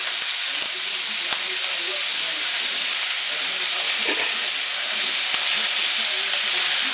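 Ground meat browning for Texas chili in an oiled pan, giving a steady, loud hiss of sizzling with small pops throughout and no break.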